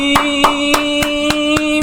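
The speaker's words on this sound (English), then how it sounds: "Clap it up, team!" Regular sharp hand claps, about seven evenly spaced, ringing out over a steady sustained musical tone, with little else around them.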